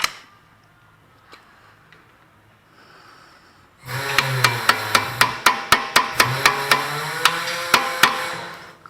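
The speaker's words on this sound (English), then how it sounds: "And you want to take your hammer" A hammer strikes metal during a Honda axle replacement, crimping the axle nut: a steady run of about a dozen sharp, ringing clanks, close and loud, after a few quieter taps and some rustling.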